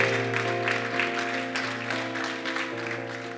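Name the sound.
applause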